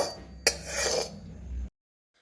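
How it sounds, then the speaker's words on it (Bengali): Lote fish jhuro being stirred in a wok, a spatula scraping and clinking against the metal in a short busy burst, close and fairly loud, before cutting to silence. "জল শুকিয়ে এসছে, তো এখন ঘন ঘন নাড়তে থাকবেন,"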